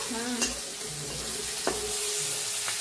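Onion fries in a pan for a rustic cluster bean curry, giving a steady close sizzle broken by three sharp scrapes of a spoon stirring against the pan.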